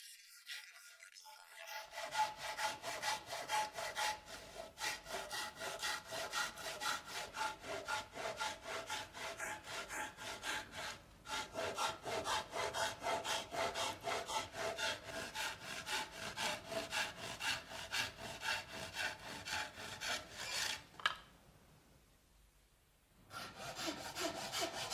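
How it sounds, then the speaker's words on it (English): Japanese round nose roughing saw (anabiki-noko) with a rounded tip cutting wood, steady rhythmic push-pull rasping strokes close up and loud, pausing briefly near the end before resuming. "A round nose roughing saw is used for roughing and has a rounded,"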